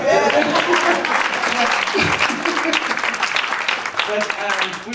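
An audience claps steadily and loudly throughout, with some voices and cheers mixed into the applause at a celebration honoring a couple married 37 years.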